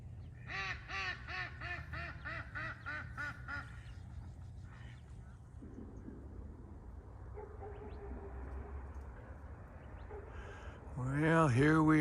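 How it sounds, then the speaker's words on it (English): Ducks on still park water at Agua Caliente Park give a quick series of rhythmic nasal quacks, then quieten beneath soft ambient hiss before a louder, closer burst of calls near the end. "just from the ducks swimming about."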